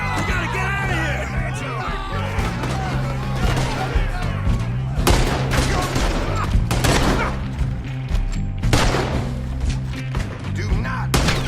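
Rapid gunfire from a Red Dead Redemption II shootout, with dense overlapping shots and booming reports that keep coming in bursts over a steady musical score and shouting voices.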